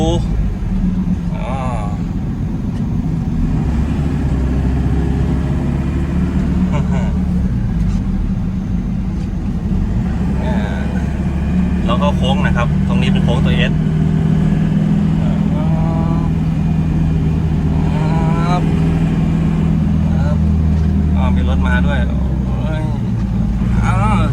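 A 1996 Isuzu TFR 4WD pickup's engine runs steadily while the truck is driven, a continuous low droning rumble that rises and falls with the gears, with someone talking over it throughout.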